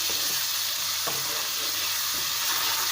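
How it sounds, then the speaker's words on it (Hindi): Ginger, garlic, green chillies and chopped onions frying in a pan for a chicken do pyaza curry, giving a steady close sizzle with a few soft stirring scrapes and no talking. "इसको भून लेंगे 2 मिनट के लिए"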